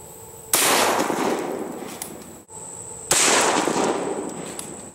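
Two loud SKS rifle shots firing 7.62x39 rounds into a Level IV stand-alone body armor plate, about two and a half seconds apart, each a sharp blast followed by a long ringing outdoor decay.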